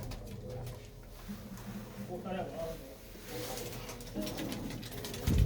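Pigeons kept by a Punjabi pigeon fancier coo softly in the background, faint and low amid ambient noise while people talk nearby.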